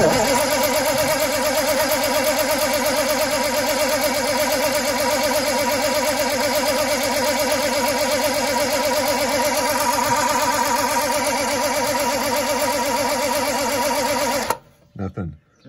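A 1940 Mercedes barn-find engine cranks steadily and loudly off a push button under the dash for about fourteen seconds, a continuous rhythmic churn that stops abruptly near the end, with people talking over it.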